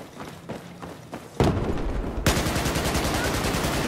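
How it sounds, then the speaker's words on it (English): Enemy machine gun fire in the video game Battlefield 4, sustained rapid bursts that grow louder and denser partway through, continuing without pause to the end. "There appears to be an enemy machine gunner operating north of you."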